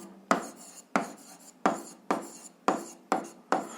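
Pen strokes on paper while writing out algebra, about seven short scratchy strokes at a steady, even pace, close and clear with no talking.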